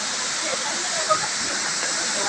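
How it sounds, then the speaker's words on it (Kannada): Abbey Falls in Coorg, swollen and muddy after rain, sends out a loud, constant roar of rushing water, an unbroken hiss that fills the whole clip with no pauses. "ನೀರಿನ ಶಬ್ದ ರಭಸವಾಗಿದೆ."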